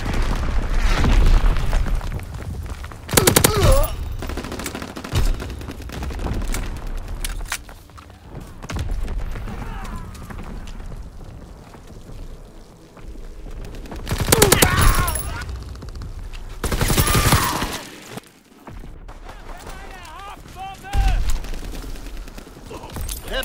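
Heavy mortar barrage explosions rumble through a World War II battlefield in Call of Duty WW2, with loud booms rising over a dense, continuous wash of distant gunfire and combat noise.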